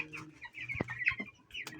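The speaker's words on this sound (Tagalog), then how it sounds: "ito na po yung ating mga sisiyo" Faint, high-pitched cheeping of 12-day-old chicks in short scattered chirps, with a few soft low clucks and light thumps nearby.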